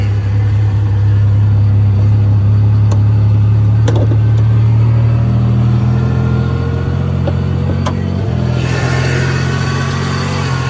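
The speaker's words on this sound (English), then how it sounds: "this one is idling kind of funny. I know y'all can hear it." A supercharged car engine idles roughly under an open hood at an insurance auto auction, a steady loud low rumble with slight unevenness throughout, no talking.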